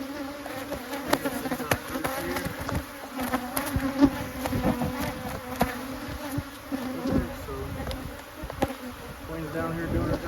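Honeybees hum steadily around an open hive during a backyard inspection, a close, dense drone with individual bees buzzing past the microphone and faint clicks of handling in the background.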